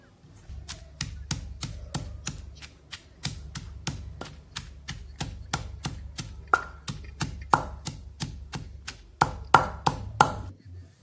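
Onions and coriander being pounded for a Punjabi tomato-onion chutney, a steady series of about thirty sharp, close thuds at an even rhythm with brief pauses, no voices over it.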